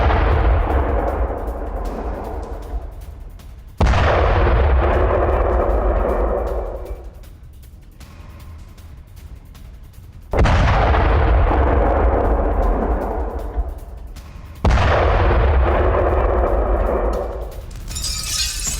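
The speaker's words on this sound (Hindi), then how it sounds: "भारी विस्फोट के बाद मस्जिद को उड़ाने का दावा" Heavy explosions from an Israeli airstrike on a mosque in Lebanon, several loud, deep blasts rolling out one after another with long rumbling decays and no voices.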